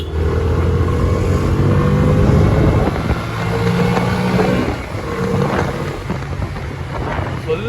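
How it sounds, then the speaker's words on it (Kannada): A Bajaj CNG motorcycle engine revs steadily while being ridden, a loud continuous drone with wind rush, pitch rising and easing through the clip and no pause in the engine noise. "ಸ್ವಲ್ಪ ರೇವ್ ಆದ್ಮೇಲೆ ಸಖತ್ತಾಗಿ ನುಗ್ತಾ ಇದೆ ಗುರು ಗಾಡಿ."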